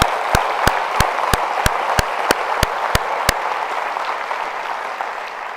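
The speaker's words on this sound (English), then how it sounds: "Let's give a big round of applause to our alumni." University audience applauding alumni at a State of the University address, broad crowd clapping alongside a series of sharp regular loud claps near the front that stop midway while the general applause continues.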